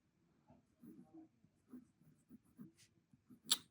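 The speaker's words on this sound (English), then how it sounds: "Let's see if it writes reverse." A Leonardo fountain pen writes reverse on paper, making soft, close scratching strokes in short repeated bursts with quiet pauses between them and one sharper stroke near the end.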